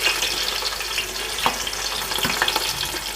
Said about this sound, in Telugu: ఇప్పుడు ఉల్లిపాయలు వేస్తున్నాను.